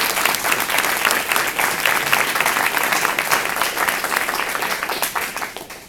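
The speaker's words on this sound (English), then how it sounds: "it is certainly appropriate for us to pause and recognize the 2 of them with a round of applause" An audience at a university scholarship awards ceremony applauds, dense, loud, steady clapping from a large crowd that holds for several seconds and tapers slightly at the end.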